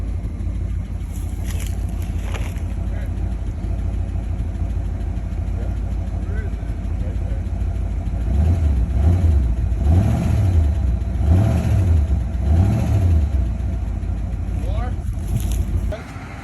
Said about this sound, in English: Hey, Matt, rev it up a little bit